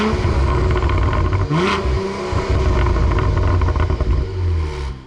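A 2022 Cadillac CT4-V Blackwing sport sedan's engine revs through its four exhaust tips, a loud close rumbling roar that dips briefly, then climbs in repeated throttle blips.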